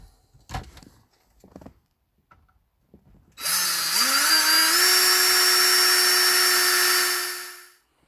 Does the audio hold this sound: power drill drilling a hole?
yes